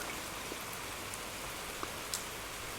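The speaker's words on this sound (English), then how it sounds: "we are blessed with this cool, refreshing rain" Steady rain falls after a hot day with thunder and lightning, a dense even hiss with scattered close drips and small taps, no voices.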